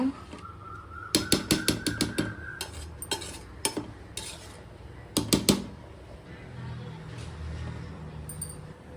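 Soaked rice being stirred into a mutton biryani pot on low flame, with a run of quick clinking and scraping strokes of a spoon against the pot in two bursts, then a soft simmering bubble underneath.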